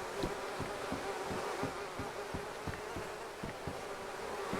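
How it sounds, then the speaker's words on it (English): Bees hum steadily around hives in a dense, continuous buzz, with a low, even drone that pulses faintly as insects pass near and away. "We keep the windows open for the bees to go in and out"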